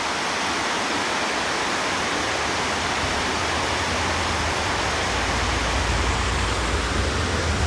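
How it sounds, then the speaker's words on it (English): Water rushes downhill toward the Lehigh River in the town of Jim Thorpe, Pennsylvania, a loud, steady, broadband roar like a close waterfall that continues without a break. "That water is rushing down to the Lehigh."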